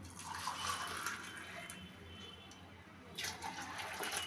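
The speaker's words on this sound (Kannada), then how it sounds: "ಅದಕ್ಕೆ ಹಾಲನ್ನ ಹಾಕ್ಬಿಟ್ಟು ಮಿಕ್ಸ್ ಮಾಡ್ತಾಯಿದ್ದೀನಿ." Milk poured into protein powder and stirred together, a soft continuous liquid splashing and swirling close by, with a fresh surge of pouring near the end and no talk.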